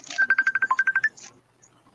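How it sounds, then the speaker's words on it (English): A phone rings with a quick run of about a dozen short electronic beeps in a steady rhythm, fairly close and clear, then stops and leaves near silence. "you got phone ringing here"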